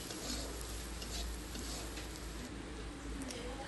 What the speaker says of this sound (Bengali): পেঁয়াজটা ভালো করে নাড়াচাড়া করে নিচ্ছি।